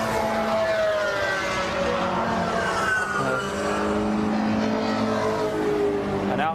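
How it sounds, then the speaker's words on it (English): Race cars pulling out of the pits at the Brands Hatch GP circuit during a classic touring car event, engines droning steadily at a moderate distance with a rising pass near the end. "There goes car number 1, Essen."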